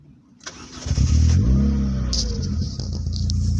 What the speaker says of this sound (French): on va la démarrer ensemble pour que vous voyez un petit peu le son de la voiture